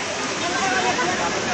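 Waterfall at Srambang Park in Jogorogo, a dense, continuous broadband roar of falling water, loud and steady throughout with no distinct voices standing out.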